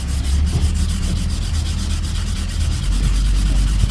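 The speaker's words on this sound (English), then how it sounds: "What I've done is sanded this with the 40 grit on the DA just to give it the basic shape" A DA sander fitted with 40-grit paper grinds steadily across a plastic car bumper being shaped after plastic welding, a continuous close rasping hiss that holds even throughout with no voices.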